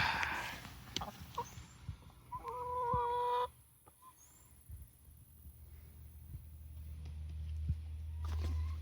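Chickens on a Central Texas homestead give a few soft clucks and a brief call amid low hum and faint rustling, with quiet, sparse sounds throughout.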